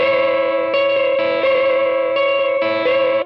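Distorted electric guitar playing a dissonant lick built around a flat five, with a sustained, harmonically rich tone, repeated re-attacked notes and effects-laden reverb and chorus, close and loud before cutting off.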